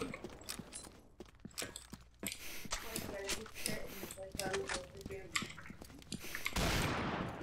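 Combat Arms video game gunfire crackles in sharp bursts during an official match, with mechanical clicks and a loud blast near the end, while voices talk over it.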